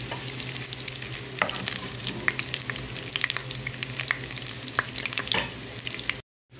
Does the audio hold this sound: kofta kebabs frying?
yes